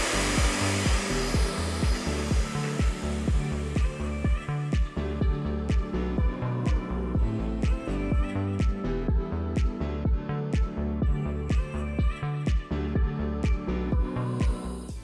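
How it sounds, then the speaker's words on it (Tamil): An electric hand mixer beats dairy whipping cream toward stiff peaks, giving a loud, continuous motor whir with a rapid pulsing rhythm as the beaters churn the bowl, heard close with no speech. "இப்போது இதுவும் நல்லா ஸ்டிஃப் பீக் வர அளவுக்கு பீட் பண்ணிக்கலாம்."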